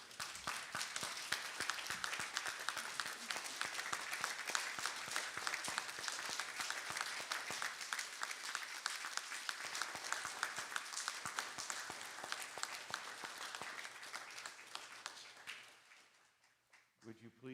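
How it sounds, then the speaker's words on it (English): An audience at a memorial service gives a standing ovation, dense sustained applause and clapping filling the room for about fifteen seconds before fading out. "as we fill the room with clapping"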